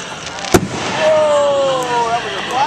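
Fireworks go off at a July 4th-season show in Pepperell, Massachusetts: one sharp, loud bang, then whistling, fizzing trails and a few smaller pops. Spectators talk throughout.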